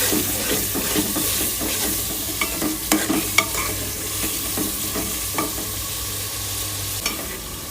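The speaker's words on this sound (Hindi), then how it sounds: "तब हम इसकी अच्छी तरह फ्राई कर लेंगे गोश्त की।" Meat frying with cumin in a pan, a steady close sizzle with scraping stirring strokes throughout and a few sharper utensil clinks, no talking.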